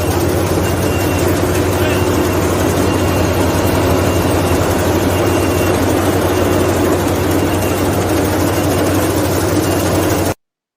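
A tractor and harvester engine running steadily at close range, a continuous low rumbling drone with broadband vibration that holds constant for about ten seconds before stopping abruptly.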